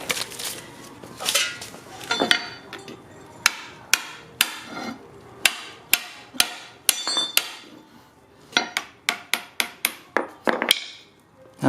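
Metal hammer blows knocking out a front suspension part from a 1997-2001 Honda Prelude, sharp loud strikes with scattered hits first, then a steady rhythmic series of evenly spaced blows.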